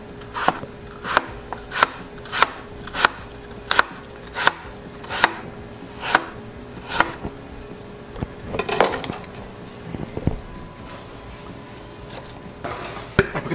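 Apples cut into strips with a knife for an apple tart: about a dozen crisp, evenly spaced chops on a cutting board, then a looser clatter of knife and pieces, close and clear.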